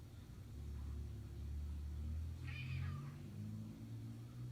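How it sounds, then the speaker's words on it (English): A cat meows once at a door, a single drawn-out cry played back on a video, heard faintly over a steady low rumble of background noise. "No cat has ever stared at a door meowing."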